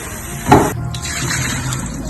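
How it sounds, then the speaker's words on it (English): Water poured out of a pot of bones and the bones rinsed while making a simple bone broth, a brief splashing burst followed by a steady running rush of water, close and alone. "Pour all the water out and then rinse it really well again."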